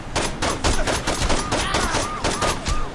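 Rapid automatic gunfire in the video game Saints Row 2 rattles loudly in a dense burst of repeated shots, with sharp ricochet-like whistles threaded between them.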